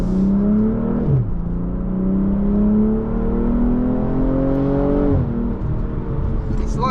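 A BMW G42 M240i engine revs hard and accelerates, its pitch climbing steadily, dropping sharply as gears change, then rising again, loud and close throughout.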